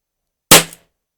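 A single sharp shot from a Taurus 409 Flobert pistol with Sellier & Bellot ammunition, loud and close, with a quick bright crack and a short decaying tail, then silence.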